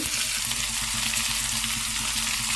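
Chopped onions and curry leaves sautéing in a hot pan, a loud, continuous close-up sizzle and crackle with a low steady hum beneath, no talking.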